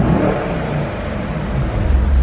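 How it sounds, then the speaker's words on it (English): A 2019 Mercedes-AMG E 63 S 4MATIC with AMG performance exhaust rumbles loud and close, a deep, steady engine roar that swells slightly near the end. "AMG performance exhaust."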